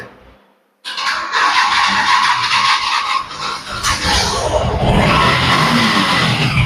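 Used Yamaha motorcycle with its engine started and running, a loud steady roar that begins abruptly after a short quiet moment and holds for several seconds with slight rises in revving.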